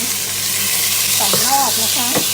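Pork stir-frying with garlic and onion in a pan over lowered heat gives a constant loud sizzling hiss, with a voice speaking briefly over it.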